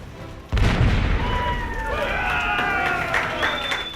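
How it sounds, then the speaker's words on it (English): Pirate ship cannon fired at South Padre Island, one sudden loud boom followed by a rumbling tail, with crowd noise and voices around it. "they let me fire off the cannon"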